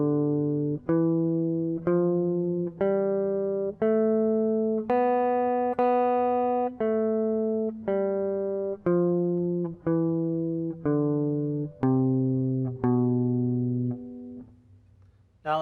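Open-position guitar picks out a B Locrian scale note by note, rising and then falling in a steady rhythm of evenly spaced plucked tones, each ringing and decaying, clear and alone.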